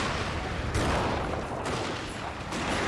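Massed musket-style gunfire volleys from units in the PC strategy game Shogun 2: Total War with a lethality mod, a dense continuous crackle of shots with a couple of louder surges, steady and fairly loud throughout.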